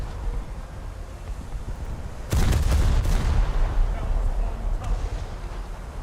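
Ship guns fire HE shells in a naval video game, a sudden heavy booming salvo over a constant wind-like rumble that stays loud and then fades slowly, with another faint report later.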